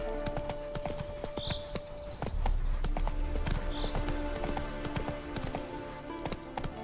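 A horse galloping in The Witcher 3, hooves clip-clopping in quick, uneven beats close by, with a low rumbling and steady tonal background layered underneath.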